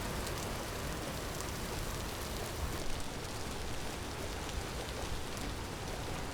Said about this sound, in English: so I guess we're headed into the rain again